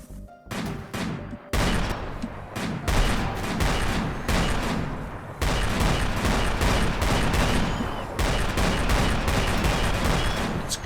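Dense, continuous video-game gunfire sustained for about eleven seconds: many weapons fire at once in loud, overlapping bursts at a zombie, with no clear pauses and no voices.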